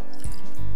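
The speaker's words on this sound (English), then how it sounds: "add a little bit of water to get the right consistency" Water poured into a pot of smooth soup simmering back on the heat, giving a short close splash and trickle that lasts under a second.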